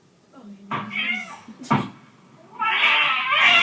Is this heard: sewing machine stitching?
no